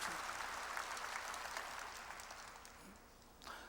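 A church congregation claps during a Korean sermon, a dense sustained burst of applause that starts full and gradually thins, with a brief swell near the end and a faint voice underneath.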